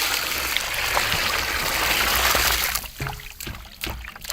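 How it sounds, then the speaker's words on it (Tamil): Water poured during village kitchen cooking, a steady close splashing stream that thins out toward the end with a few knocks and handling sounds. "தண்ணி ஊற்ற"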